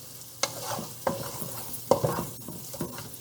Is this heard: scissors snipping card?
no